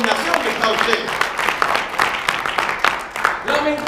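A church congregation applauding, a moderately loud, uneven patter of many hands clapping at close range, with voices and cheering mixed in throughout.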